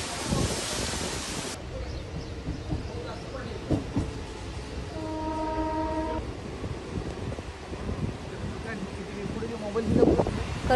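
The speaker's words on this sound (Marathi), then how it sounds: "उपनगरीय रेल्वे गाड्या देखील अत्यंत संथ गतीने या मार्गावरून धावत आहेत" Suburban local train creeping slowly along a waterlogged railway track between Karjat and Khopoli in heavy monsoon rain, a rumbling run with wind buffeting the microphone and a brief horn blast partway through.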